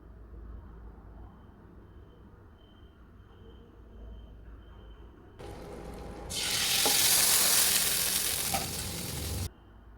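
Hot oil tempering sizzles loudly as it is poured into a pot of pappu charu, a Telugu lentil and vegetable stew, breaking out suddenly after quiet low kitchen hum and hissing steadily for about four seconds before cutting off.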